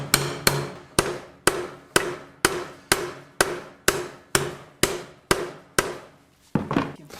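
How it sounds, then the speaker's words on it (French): A cold-bent metal bar is hammered into a square angle shape by hand: a dozen sharp, evenly spaced metallic strikes ring out close and loud, each decaying quickly, with the last few blows coming faster and lighter. "je vais avoir un premier pliage à la main que je vais là aussi parfaire au marteau par martelage"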